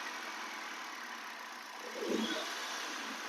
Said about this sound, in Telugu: ఒకసారి స్టార్ట్ ఎక్సలేటర్ ఇవ్వండి. ఇంజన్ చూడండి, చాలా సైలెంట్గా ఉంది.